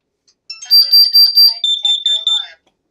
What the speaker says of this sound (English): And we got the alarm.